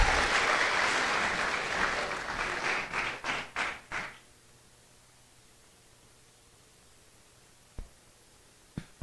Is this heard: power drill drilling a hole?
no